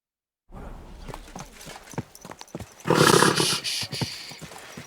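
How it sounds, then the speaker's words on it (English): A horse whinnies loudly and snorts, with hooves clopping and shuffling in a Kingdom Come: Deliverance II game soundscape, growing louder partway through. "Easy, good horse."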